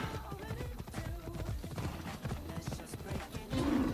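Horse hooves pound in a rapid galloping rhythm in the video game Assassin's Creed Odyssey, layered with game ambience and a swell of sound near the end.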